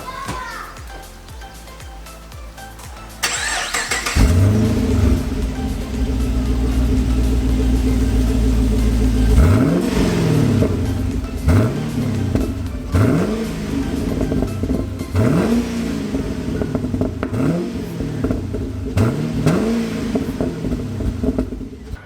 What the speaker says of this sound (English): I'll start it up and give it a rev.